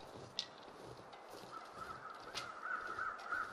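Crows caw faintly and at a distance in the survival video game The Long Dark. Several short calls, spaced apart, rise over a steady windy background.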